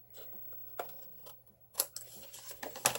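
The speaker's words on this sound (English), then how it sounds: "I'm going to flip it over just so I can trim off the excess" Scissors trimming excess paper from the edge of a handmade graduation card, giving a few quiet, close snips and crisp cutting rasps in short bursts.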